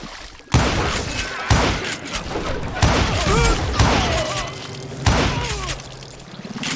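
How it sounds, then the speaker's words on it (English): A fusillade of bullets raining down from above in Call of Juarez Gunslinger, loud sharp volleys arriving in four or five separated bursts with ricochet whines and thuds, a voice briefly heard between. "It was then that a fusillade of bullets come raining down from on high."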